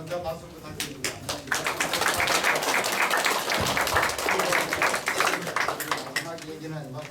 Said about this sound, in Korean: 우리 서정학 이사장님 한 번 더 박수 부탁드립니다